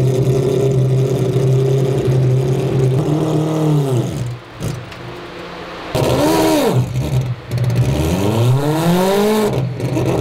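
Billet four-rotor Mazda RX-7 with all-wheel drive and 1000 hp revving hard, loud close engine blips rising and falling in pitch between sharp cuts and brief dips.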